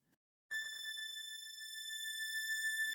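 A Surge XT synthesizer plays a sustained high string tone through a repro plate reverb, starting with a pulsing attack that settles into a bright, steady, clean held note before stopping.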